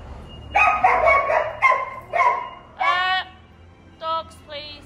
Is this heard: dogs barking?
yes